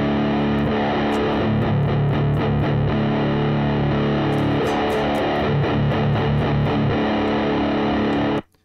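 Electric guitar run through an Audio Assault Bulldog amp simulator, heavily distorted, playing a continuous, dense riff for about eight seconds before cutting off abruptly, loud and close with no talking.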